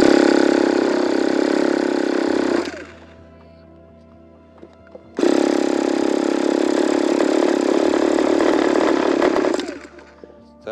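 A small glow model engine roars loud and close at high revs, drops abruptly to a rough idle for a couple of seconds, then snaps back up to full throttle before cutting down again near the end.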